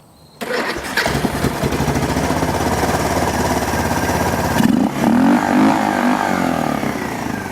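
A non-running ATV, just repaired with fuel turned on and carburetor filled, cranks and catches, then runs with a steady loud rattling engine note close by, the pitch shifting briefly as throttle or choke changes; no talking.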